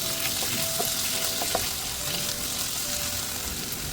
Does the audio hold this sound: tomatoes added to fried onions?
yes